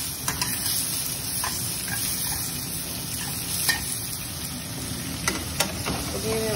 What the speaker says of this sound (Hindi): जो टमाटर है टमाटो इसको मैंने हल्का सा फ्राई करना है